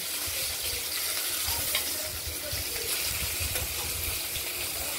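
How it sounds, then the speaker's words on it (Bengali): Pieces of katla fish fry in hot oil, giving a continuous, even crackling sizzle for several seconds with faint low clatters beneath and no talking. "মাছগুলো ভাজা হয়ে গেছে।"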